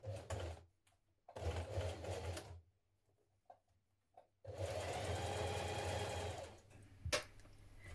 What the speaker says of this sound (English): Now we're going to stitch down each side with two rows of top stitching.